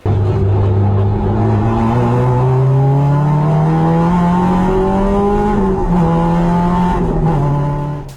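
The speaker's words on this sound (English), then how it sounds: "straight cut gears. It's noisy." Honda Civic EG race car with a straight-cut dog-gear sequential gearbox and 1.5-way limited-slip diff, engine droning loud and close throughout with a steady rising tone and gear whine, no talking.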